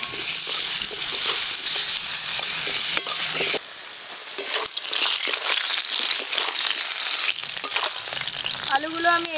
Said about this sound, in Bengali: ওই একই তেলে আলুগুলোও ভালো করে ভেজে নেব।